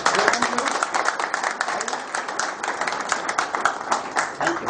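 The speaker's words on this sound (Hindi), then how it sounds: "हम लोग जोरदार तालियों से उनका स्वागत करेंगे" An audience claps enthusiastically to welcome a guest at a company event, brisk, loud, crowded clapping that continues without a break and varies slightly in intensity.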